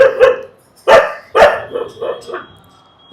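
Kombai dogs in kennel cages at a kennel in Saravanampatti, Coimbatore, bark loudly and close by, with about four sharp barks in an uneven rhythm followed by softer yips.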